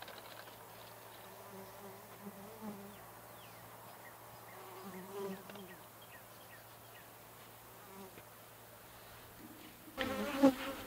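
Honey bees buzz steadily around an opened horizontal hive, a close, continuous drone with a louder burst of activity near the end.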